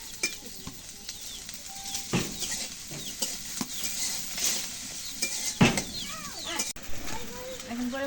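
Onions frying in oil in a pan, a steady sizzle broken by scraping stirs and clinks of a utensil, with birds and a rooster in the background and someone talking over it.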